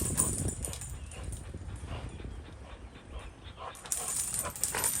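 A big dog barks and whimpers in short bursts while playing with a toy, close and fairly loud over steady rustling background noise.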